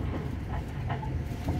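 Steady rumble and rattle inside a moving KRL Commuter Line electric train near Cikarang, Indonesia, continuous low-frequency hum with faint clickety-clack, no talking.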